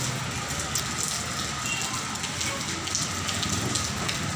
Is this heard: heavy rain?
yes